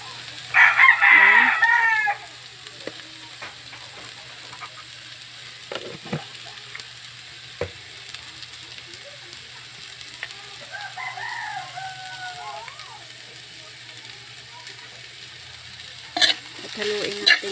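Papaya being stir-fried in a pan after a pinch of salt: a soft, steady sizzle with occasional spatula scrapes, while a rooster crows loudly nearby at the start and again faintly later.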